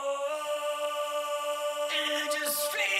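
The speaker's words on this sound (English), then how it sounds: "micro shift does a pitch up on one side and a pitch down on one side" A single sung vocal line through a subtle micro-shift effect pitching one side up and one down, holding a sustained note with a faint shimmering, slightly detuned quality, then a breathy sibilant ending.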